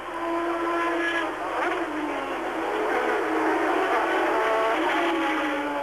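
Late-1980s Formula 1 race cars in a 1988 Grand Prix, Prost ahead of Senna with Ferraris, Piquet's Lotus, Benettons and Mansell's Williams behind, roar past with a loud, continuous engine wail and shifting pitch sweeps as the pack streams by.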